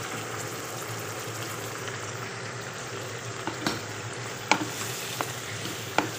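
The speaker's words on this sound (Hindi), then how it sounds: "इसे हम फ्राई कर रहे हैं और साथ ही हम इसमें लहसुन और अदरक की पेस्ट ऐड कर देंगे" Boneless chicken frying with garlic and ginger paste gives a steady, close sizzle throughout, with a few sharp clinks and scrapes of a stirring utensil against the pan.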